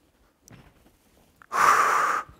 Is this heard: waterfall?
no